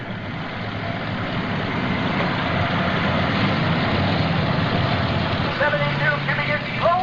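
A 72 cubic inch Road Aries engine powers a modified tractor at a 1995 NTPA tractor pull in Fort Recovery, giving a loud, steady, heavy roar throughout, with voices audible over it.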